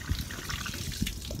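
Water from an opened tap runs in a steady trickle, close by, with a couple of faint knocks mixed in.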